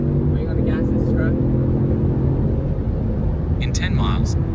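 Ford Mustang EcoBoost four-cylinder engine under acceleration, heard from inside the car as a loud, steady droning hum with a few faint voices and chirps over it.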